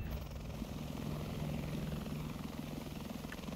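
A military attack helicopter in a war video game, armed with Hellfire fire-and-forget missiles, drones with a steady rotor and engine roar, loud and continuous with a low thumping pulse.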